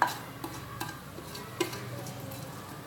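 A spoon stirs cloves and a cinnamon stick in a pot, several soft scrapes and light clinks over a faint, low sizzle, close and unhurried.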